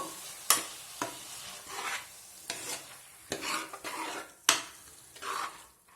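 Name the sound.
stirring masala in cauliflower curry pan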